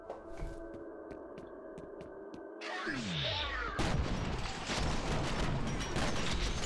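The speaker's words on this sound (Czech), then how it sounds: "Tak ještě střílí, ne?" Sharp bursts of gunfire in the video game F.E.A.R. crack over a humming background, followed by a dense, rumbling barrage of shots and explosions.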